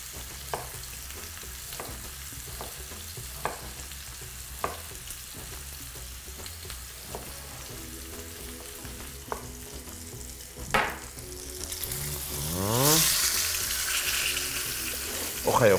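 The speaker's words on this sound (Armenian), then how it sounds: "նույն բուսայուղի մեջ տապակենք գլուխ սող" Chopped onion fries in vegetable oil in a home kitchen with a steady, close sizzle broken by light utensil taps; near the end a louder rush like running tap water swells in. No one speaks.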